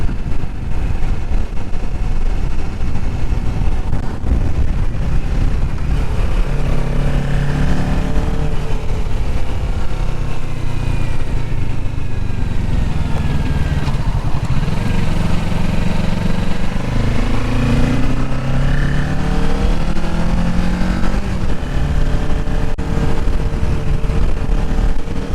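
A Kawasaki Ninja 650 on a test ride, its engine loud and continuous up close, rising and falling as it revs through the gears, with no speech.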